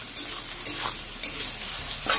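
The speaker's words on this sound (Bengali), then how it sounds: "একটু নেড়ে দেবো" Potato and pumpkin peels sizzle and fry in a pan while being stirred, a steady crackling hiss broken by four scraping strokes of the spatula at regular intervals.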